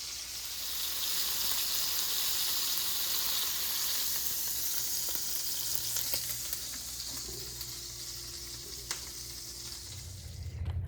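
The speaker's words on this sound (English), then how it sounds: "So here I'm just searing the chuck roast" Chuck roast searing in a pan gives a steady, close sizzle that holds for about ten seconds, with a few light clicks and scrapes as it cooks; no one speaks.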